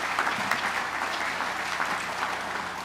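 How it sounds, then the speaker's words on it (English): Audience at a Space Florida press event at Cape Canaveral applauds a speaker, a dense, even roar of clapping that holds steady throughout without voices. "your applause, please"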